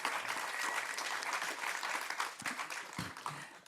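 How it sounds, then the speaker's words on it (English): An audience at an EDJC organisers and coordinators meeting at the Memorial de la Shoah applauds for Federico Sarfo, a moderate crowd's clapping that runs steadily for a few seconds and then thins, a couple of louder single claps standing out near the end. "please applaud Federico Sarfo"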